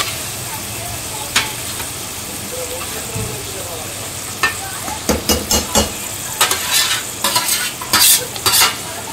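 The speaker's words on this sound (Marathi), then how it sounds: "आता या स्टेजला मी यात टाकते टोमॅटो प्युरी।" Tomato puree fries with onion in a pan for masala okra while a spoon stirs and scrapes, a soft sizzle at first, then a loud run of clustered scraping strokes near the end.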